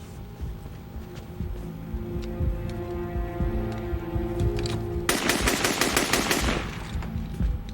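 Machine gun fire during a plane hijacking, rapid repeated shots over a steady hum, building to a loud sustained burst midway before fading back.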